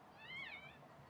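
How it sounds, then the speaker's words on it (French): A cat in an anime episode gives a single short, clear meow, rising then falling, fairly close and heard alone over a quiet background. "c'est un chat, évidemment qu'elle est chou"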